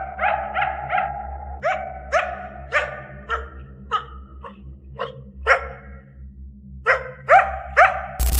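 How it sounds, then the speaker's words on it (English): A coyote on a trail barks repeatedly in a rapid series of sharp yips and barks that come in clusters, loud and near, with no voices present. "sees the animal barking repeatedly"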